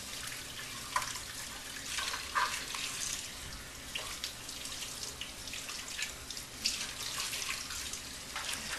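Hot tap water runs steadily into a sink while juicer parts are rinsed, with a faint continuous splash and occasional clinks and drips.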